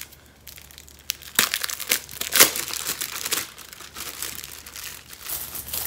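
Plastic packaging from a clothing haul parcel crinkles and crackles as it is handled and torn open, with bursts of sharp rustling and quieter handling between.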